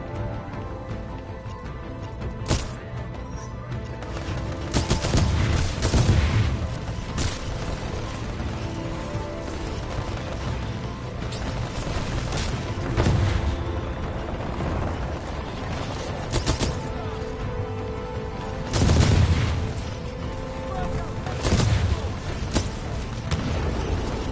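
Gunfire from a weapon in Titanfall 2 pops out in bursts of sharp shots over a busy, clanking game soundscape of mechanical noise and rumbling booms, recurring irregularly throughout.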